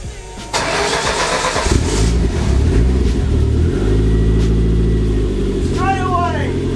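An old Ford Focus ST fitted with an RS engine cranks briefly, then catches and settles into a loud, close, rough idle, with a person speaking faintly over it.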